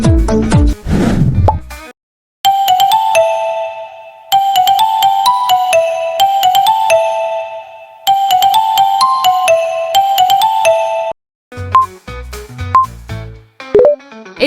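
Ringtone from a Lava smartphone: a bright electronic melody plays in looped phrases, each about two seconds long, separated by short silences. A busier run of notes follows near the end. It is loud and clear, with no voices.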